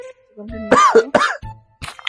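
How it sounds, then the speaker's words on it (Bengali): A person coughs in a few short, sharp bursts with throat clearing between them, close and loud in a quiet room. "কাশি হচ্ছে"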